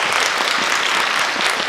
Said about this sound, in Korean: 큰 도전을 무사하고 아름답게 마치신 감독님께 박수 한번 부탁드리겠습니다